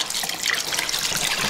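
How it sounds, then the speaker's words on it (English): Hot pig lard pours through a cheesecloth-lined metal colander into a bowl, making a steady, continuous liquid trickle and splash, close and fairly loud with no talking. "I'm gonna pour that lard through there"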